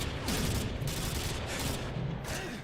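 A fully automatic sniper rifle fires in a video game, a dense, loud, continuous stream of shots with no pauses and no voices.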